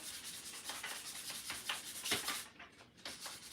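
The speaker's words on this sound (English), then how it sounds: "Got that sanded down better" Someone sands a wooden handle by hand, producing a steady scratchy rasp in short repeated strokes that pause briefly near the end, quiet and close.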